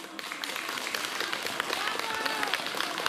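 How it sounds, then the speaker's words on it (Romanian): A village audience gives warm, dense applause after a performance, a continuous crackling wash of many hands at moderate distance, with a murmur of voices mixed in. "vă mulțumește cu calde aplauze"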